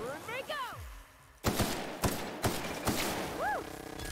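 Gunshots ring out in The Outer Worlds, a few sharp separate reports spaced about half a second apart, with some electronic whistling tones and game effects around them.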